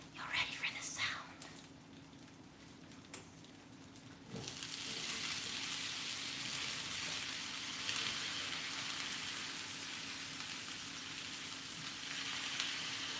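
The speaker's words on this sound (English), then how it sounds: "Oh, it's sizzling. It's sizzling." Vegetables hit a hot pan and burst into a steady, close sizzle that holds to the end, following a few seconds of quiet rustling and faint talk.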